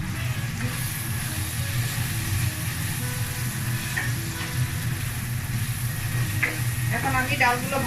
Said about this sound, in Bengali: এখন আমি ডালগুলো ভালো করে কষিয়ে নিচ্ছি মশলাগুলোর সাথে।